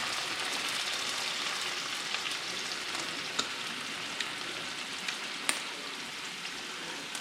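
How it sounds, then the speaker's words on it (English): A pan of Amatriciana sauce deglazed with white wine gives a steady, close, broadband sizzle with a few sharp pops scattered through it, and no voices. "I want to deglaze this pan with some white wine."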